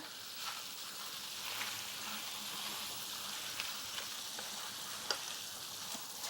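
Spinach with a pinch of salt cooking down in a pan, a soft steady sizzle with occasional light ticks and stirring sounds, quiet and continuous, no talk.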